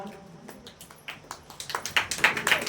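Audience applause in a Telugu church gathering, scattered at first and then building into denser, louder clapping toward the end.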